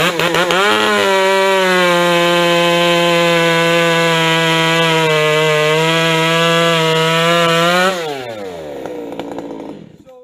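A ported Ironhorse chainsaw bucks a log, holding a loud, steady high-revving whine close by for about eight seconds before the revs drop and the engine winds down toward idle.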